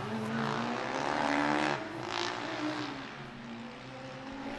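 Formula Student race cars lapping a track during an endurance final, a steady high engine whine with one car pushing harder as it overtakes, droning continuously at moderate distance.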